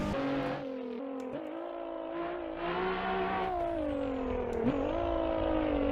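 A car driven hard on a twisty road climbs and falls through the revs, with the engine note shifting as it slides between understeer and oversteer. The roar is steady and loud from inside the cabin, and no one speaks.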